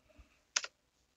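A short burst of typing on a computer keyboard: two or three quick, close clicks in rapid succession, preceded by faint background noise.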